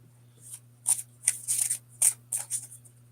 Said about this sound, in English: I am going to give this another shuffle